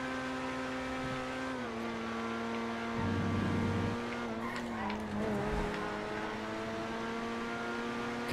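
The Furia supercar in GTA V drives steadily, its engine holding a continuous droning tone with brief shifts and a rougher patch midway, heard up close with no speech.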